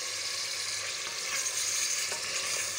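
Spices and onion-masala sizzling in hot ghee in a pan for an egg and potato dish, a steady close crackle with faint stirring scrapes and no talk.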